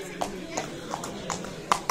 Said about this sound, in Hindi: घोड़ा पीछे से आ रहा है